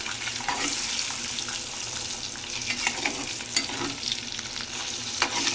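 Eggs fry in a pan for a banana-and-egg curry, giving a continuous sizzle with scraping stirs and occasional clinks of the utensil against the pan, steady and close.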